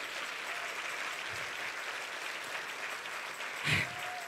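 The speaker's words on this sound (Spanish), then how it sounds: "Si ese es el aplauso" Applause from a church congregation during a sermon, moderate and steady, carried at a distance with a faint hum beneath and a brief louder burst near the end.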